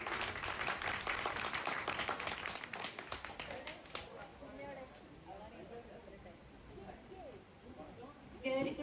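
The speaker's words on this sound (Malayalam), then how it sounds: "എല്ലാവരും നല്ലൊരു കയ്യടി കൊടുക്കൂ" A crowd claps warmly at a young author's book unveiling ceremony, with a dense burst of applause that lasts a few seconds before fading into quieter room sounds and people talking.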